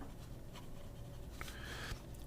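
A Majohn X1 fountain pen with a fine nib scratches faintly across paper in short strokes, quiet and close against a soft background hiss.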